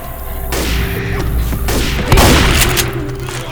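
Gunfire in the video game Left 4 Dead 2, a dense burst of booming shots and rapid fusillade that crowds the whole clip, loud and close with overlapping blasts.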